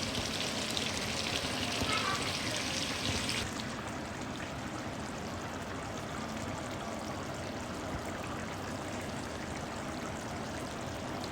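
Bottle gourd with shrimp (lau chingri) cooks in a pan with a loud, continuous sizzle and bubbling hiss, brighter for the first few seconds and then settling into a steady simmer.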